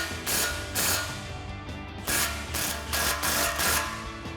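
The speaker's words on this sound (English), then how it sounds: "Now we'll snug up our rear clamp here. Again, with our 15mm socket." A ratchet with a 15mm socket tightens the rear exhaust clamp on a Dodge Charger cat-back install, giving bursts of rapid close clicking in several short strokes with brief pauses between them, no talking.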